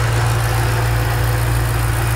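A 2008 Ford Mustang GT500's supercharged engine idles steadily with the hood open, a loud, close, even low rumble topped by a thin, continuous supercharger whine, with no voices.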